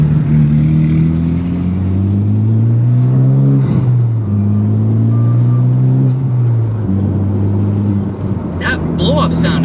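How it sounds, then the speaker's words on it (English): A Honda Civic Type R with a turbo blow-off valve, heard from inside while driving, with a steady engine drone rising and falling through gear changes and short airy bursts near the middle and end of the clip. "Blow-off sound is vicious."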